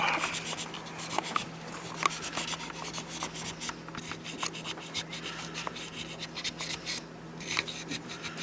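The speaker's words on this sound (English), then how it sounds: "Putting the screwdriver in, using that to clean, and we'll go through the top." A screwdriver tip scraping and rubbing inside an Xbox 360 controller while cleaning sticky buttons: continuous close, fine scratching with small irregular clicks throughout.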